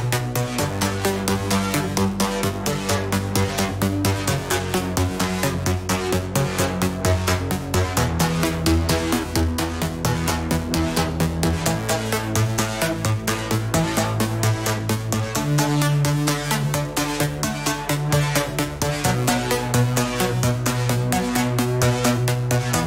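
A dense 1980s-style synthesizer track with punchy programmed drums, a pulsing bass line and bright layered synth chords plays continuously at full volume, with no voices.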